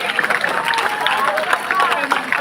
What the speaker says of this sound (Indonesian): Tepuk tangan semuanya untuk kita semua.